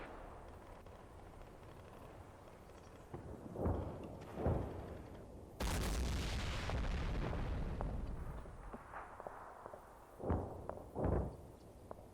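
Artillery barrage in the video game Combat Mission, several separate distant booms, then a sustained loud rumbling roar of impacts lasting a few seconds, followed by more scattered blasts, with no talking.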